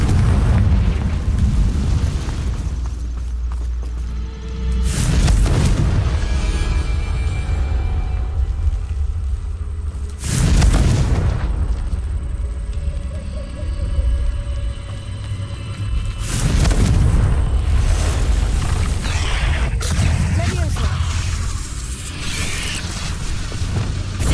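Confringo blasting curse explosions in the video game Hogwarts Legacy: three loud, deep booms about five to six seconds apart, each a sudden blast that rolls into a rumbling tail over a steady low backdrop.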